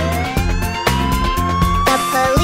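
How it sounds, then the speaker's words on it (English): Police car siren from a children's cartoon song, wailing in rising and falling sweeps over a steady beat of music, loud and close, with no voices. "Police car siren goes woo, woo, woo, woo, woo, woo, woo, woo, woo."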